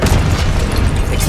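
An Expelliarmus spell is cast in Hogwarts Legacy, a brief, loud, booming magical blast with a dense rumble that fills the whole moment.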